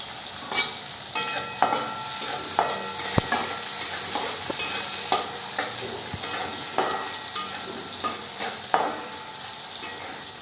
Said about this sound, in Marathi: चांगले परतून घ्यायचे मिरच्या